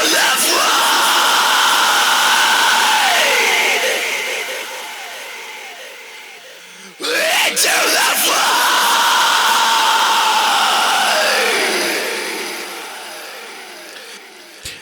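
A heavily distorted black metal style scream, drenched in echo and reverb, roars in two long sustained bursts that swell and sweep in pitch, loud and close with a smeared, ringing tail.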